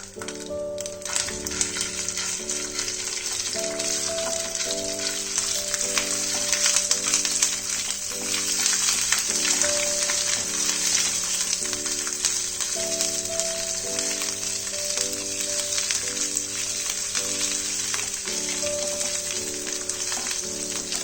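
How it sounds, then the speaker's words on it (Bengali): Ginger paste and radhuni seeds fry in a pan with oil for a Bengali pabda fish curry, giving a steady, close sizzle for twenty seconds. A melodic tune plays softly underneath, and no one speaks. "আদাটা যতক্ষণ ফ্রাই হচ্ছে"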